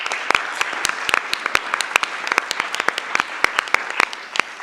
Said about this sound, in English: So I want to start with a round of applause.